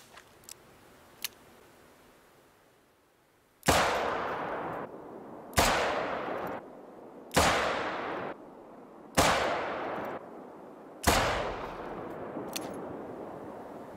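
Five .44 Panther Magnum revolver shots fired at a 70-meter target on a range in the video game theHunter: Call of the Wild, loud sharp reports spaced about two seconds apart, each with a long decaying echo tail.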